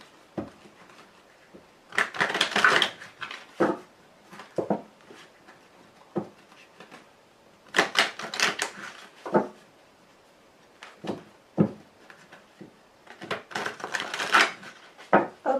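A deck of tarot cards is shuffled and cut close by, with bursts of crisp riffling and flapping card noise split by quiet gaps and sharp single slaps as the deck is tapped and cut.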